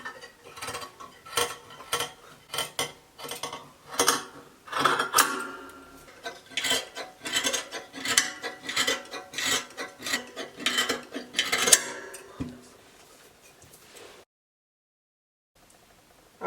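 Scissors cutting out fabric pieces for a sleeveless shift dress, a series of crisp close snips and rasping cuts in an uneven rhythm, then a short silence near the end.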